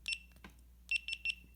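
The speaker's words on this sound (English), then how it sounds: "1 beep, it's recording." A GoPro camera gives short, high electronic beeps: a quick early burst, then three evenly spaced chirps close together, crisp and quiet against silence.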